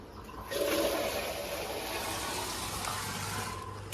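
Cold water poured during a winter bath, a loud splashing gush starting after a brief pause and flowing steadily close by, with no talking.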